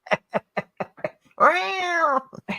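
A cat up close gives a rapid run of short, chirpy meows, then one long drawn-out meow and a final short call.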